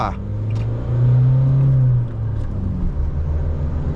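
A 2024 Isuzu D-Max 1.9 manual two-door pickup pulls away, its engine giving a low steady drone that swells briefly and then settles, heard from inside the cab with someone talking over it.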